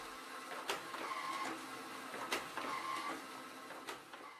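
Formax FD 1202 folder-sealer processing printed forms runs with a steady mechanical whir and a rhythmic clack as each form passes through, repeating about every one and a half seconds, fairly quiet.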